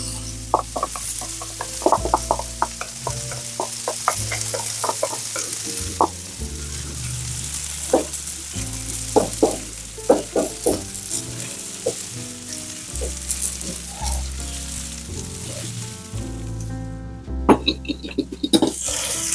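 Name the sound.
onion sizzling in paella pan with lamb chops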